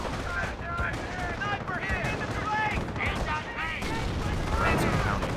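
Artillery shells pound a forward emplacement in Company of Heroes during a Normandy battle, with dense, continuous booms and gunfire rattling together, and radio-style voices talking over the din.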